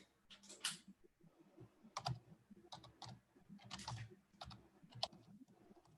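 Someone types a website address on a computer keyboard, quick irregular bursts of keystrokes, fairly faint and close, with no talking.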